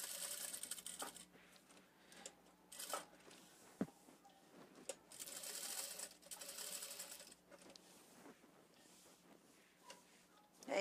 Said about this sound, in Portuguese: Aí aqui em cima, eu começo a costurar ele de novo.